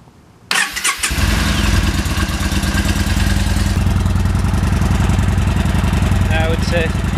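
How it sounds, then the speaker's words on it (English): A motorcycle engine cranks briefly and catches, then settles into a steady, close, loud idle with a fast mechanical clatter that continues to the end. "Let's start the bike."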